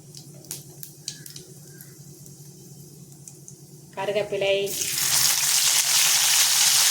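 Fennel seeds and curry leaves dropped into hot oil, beginning with a low background hum and clinks, then breaking into a loud, sustained crackling sizzle that builds and continues steadily to the end.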